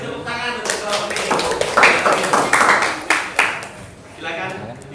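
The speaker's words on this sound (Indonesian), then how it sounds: "kita kasih tepuk tangan untuk kelompok ini" A classroom group of students claps in a short, uneven burst of applause close by, the hand claps sharp and scattered, tapering off near the end.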